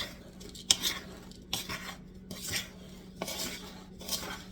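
Raw sunflower seeds are stirred in a bowl with a utensil, producing light scraping and clinking strokes in an uneven rhythm, close and fairly quiet, with no speech.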